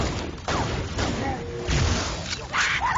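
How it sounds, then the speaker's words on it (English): Explosions and gunfire from the Halo video game on legendary difficulty, a dense run of booms and crashes filling the clip, with a voice talking over them. "My explosion."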